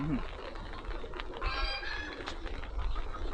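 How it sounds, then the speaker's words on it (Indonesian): Many birds at a nesting house beside the sea near Tanjungpinang coo and call over steady outdoor background noise, moderately close, with a person talking among them. "ini banyak sekali nih burungnya"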